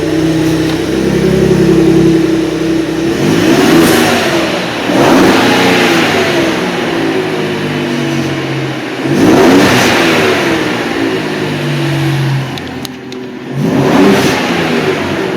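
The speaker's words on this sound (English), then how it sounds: "hear the exhaust." A 2017 Ford F-150 Raptor pickup's supercharged 3.5-liter V6 revs up several times in strong bursts, its deep exhaust roaring then settling back to a steady rumble between revs.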